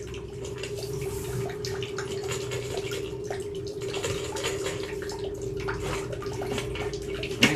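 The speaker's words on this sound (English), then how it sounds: "We still probably got a little bit of water still trickling off here" Leftover water trickles and drips through a drain line after a toilet flush and a briefly run bathtub, with a partial blockage somewhere in the pipe. A faint, steady flow runs under a constant low hum, and a small knock comes at the end.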